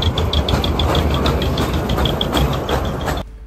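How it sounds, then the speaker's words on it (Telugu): A toy train at a cave entrance runs with a steady mechanical chugging and rhythmic clicking over loud hissing noise, close by, then cuts off abruptly near the end. "ఇదే ఆ టాయ్ ట్రైన్."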